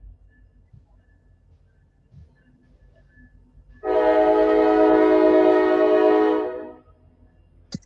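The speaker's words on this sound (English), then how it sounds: "They gonna hit the horn coming through the little intersection." A train horn blares as the train comes through a small intersection, one long sustained blast of about three seconds that starts abruptly, then cuts off against quiet background.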